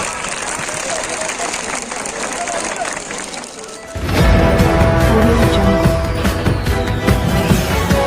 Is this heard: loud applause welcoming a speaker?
yes